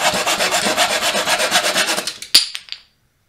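A cheap Dollar Tree hand saw cuts through wood in steady, rhythmic rasping strokes, close and loud, before ending in a few sharp final scrapes and then silence.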